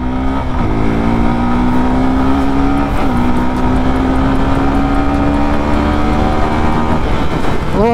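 A 2021 Suzuki Gixxer SF 250 BS6 motorcycle accelerating hard through its gears, the engine note climbing steadily, dropping briefly at each shift and rising again, loud and close with no talk.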